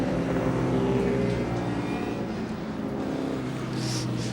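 A Deep Sanderson Twinny, an all-aluminium single-seater race car from the early 1960s with an engine at each end, drones with a loud, steady engine note that swells and fades slightly, with no speech.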